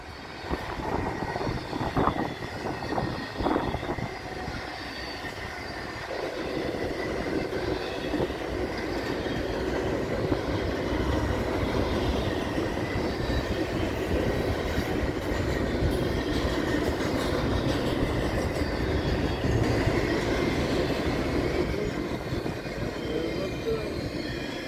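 A Norfolk Southern eastbound freight train carrying priority mail packages rumbles past steadily at close range, a loud continuous roar of wheels and cars lasting the whole stretch with no talking.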